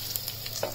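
Stuffed capsicum fries in a pan with a brief, crackly sizzle and a few small pops, close and moderately loud.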